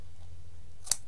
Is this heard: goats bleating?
no